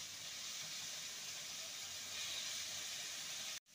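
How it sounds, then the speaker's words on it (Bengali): Spice paste and prawns for a taro and prawn curry sizzle with a steady, even hiss as they are stirred in a hot pan. The sound holds constant, then cuts off abruptly just before the end. "ভালো করে মশলাটা আর চিংড়ি মাছটাকে নেড়ে নেব।"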